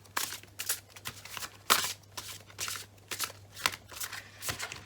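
A deck of oracle cards is shuffled by hand close up, with a run of quick, crisp riffling bursts in an uneven rhythm, soft and alone over a faint steady hum.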